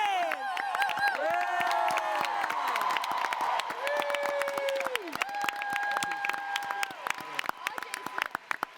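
An audience at a Marvel's Agents of S.H.I.E.L.D. event cheers and applauds for the show's writing staff: a loud, sustained burst of clapping mixed with high whoops and shouts that carries on for several seconds.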